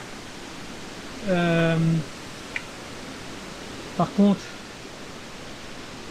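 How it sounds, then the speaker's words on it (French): Artificial waterfalls near Courmayeur, running grey with storm runoff after rain. The water gives a steady, even rushing hiss throughout, and someone speaks briefly over it twice. "un endroit où on voit des cascades artificielles"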